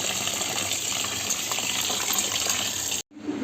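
Water runs from a tap in a steady, loud gush while basmati rice is washed for chicken biryani, then cuts off abruptly near the end, leaving a brief quieter trickle.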